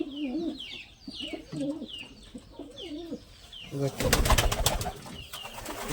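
Pigeons beside a pair of new chicks give repeated close, throaty coos in a rolling rhythm, then a louder burst of rustling and flapping.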